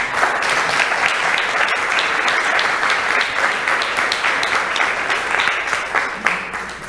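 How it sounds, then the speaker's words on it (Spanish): A church congregation claps for the Lord after a sermon passage, loud sustained applause from many people filling the hall, steady and unbroken with scattered sharper claps near the end. "Le damos un aplauso al Señor."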